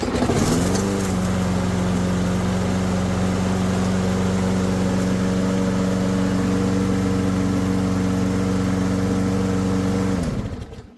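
A junked lawn mower engine with no primer or choke catches on the first pull, then runs at a loud, steady idle close by for about nine seconds before cutting off.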